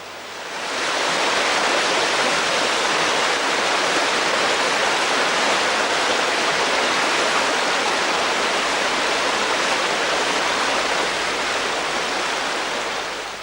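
Clapham Beck, a stream emerging from an underground cave system, rushes loudly and continuously, a dense roar of churning water that swells in at the start and holds steady throughout.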